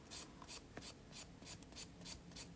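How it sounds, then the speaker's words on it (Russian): A nail file rasps in quick, even back-and-forth strokes across a gel nail, about ten dry scraping passes close up, with no talking. "завожу пилочку снизу"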